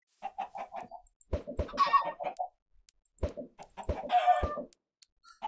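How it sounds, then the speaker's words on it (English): Minecraft chickens cluck in repeated bursts, close and clear, with short pulsing calls broken by brief silences. "Oh my goodness, what happened to the chickens?"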